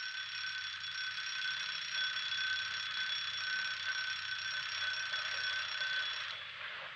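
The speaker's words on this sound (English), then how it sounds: "That's my little old alarm clock." A small old-fashioned mechanical alarm clock rings loud and steady for about six seconds, a continuous metallic bell clatter with a low background rumble, then cuts off just before the end.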